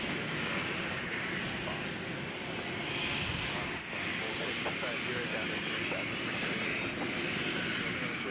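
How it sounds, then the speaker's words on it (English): Amazon Boeing 737 cargo jet landing at Nashville International Airport, a steady broad engine roar holding throughout with slight surges, heard from across the field beneath faint talk. "Sound to your right is the Amazon 737 coming into the cargo hub."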